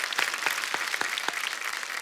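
A studio audience claps for the singer, a brief, moderate round of applause with scattered sharper individual claps over a steady patter.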